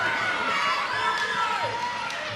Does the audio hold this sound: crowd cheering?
yes